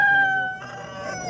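Rooster crowing at a Tashkent poultry market, one long drawn-out crow that trails off, followed by faint background market noise.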